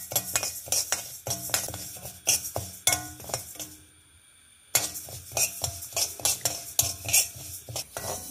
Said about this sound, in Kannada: ಫಸ್ಟ್ ನಾವು ಈ ಹೆಸರುಬೇಳೆನೊಂದು ಹುರ್ಕೊಂಬ ಫ್ರೆಂಡ್ಸ್.